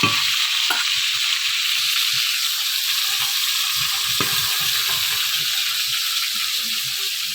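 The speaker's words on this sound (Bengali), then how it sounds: "রুই মাছ ভাজা হচ্ছে।" Rohu fish frying in a pan over a wood-fired kitchen stove, a steady close hiss and sizzle running continuously with small crackles and pops throughout, no voices.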